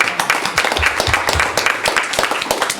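A room at an executive and finance committee meeting breaks into a round of applause, steady dense clapping from many hands lasting a few seconds.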